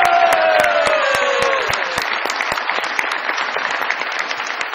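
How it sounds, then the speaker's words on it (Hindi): Studio audience applause on a comedy show welcoming a performer, dense clapping throughout, with a falling tonal sound effect audible over the first half and a faint voice or two under the clapping. "बहुत सारी तालियों में वेलकम कीजिएगा ऐनक वाला जिन के रकूटा जिन जनाब मुन्ना लाहौरी साहब"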